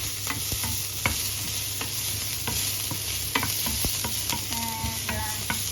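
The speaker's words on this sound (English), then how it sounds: "We need to make first the onions" Onions frying in a pan on a home stove keep up a steady, loud sizzle, while a utensil stirs and scrapes them with repeated clicks and taps close by.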